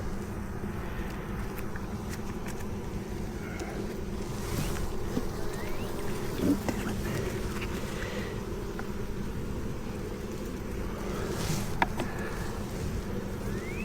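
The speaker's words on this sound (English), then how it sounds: "We got smaller bees in this guy." Honey bees buzz around an open hive during an inspection, a steady low drone close by with occasional individual bees whizzing past, continuous and moderately quiet against light outdoor background noise.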